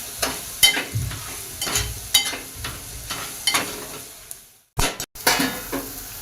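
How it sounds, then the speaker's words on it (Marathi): Spices sauté in a pan for Marwari-style khichdi, with a soft sizzle under repeated scraping and clinking strokes of a spoon against the pan, set in an uneven stirring rhythm with a brief pause near the end. "आता आपले मसाले छान परतून झाले आहेत"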